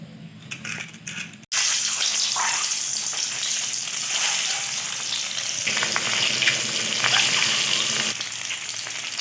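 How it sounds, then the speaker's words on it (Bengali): Hard-boiled eggs coated in salt, turmeric and chili powder fry in hot oil for egg biryani, a steady loud sizzle running throughout with occasional stirring clinks, no talking. "ডিমগুলো ভাজা হয়ে গেছে, এবার আমি তুলে নেব।"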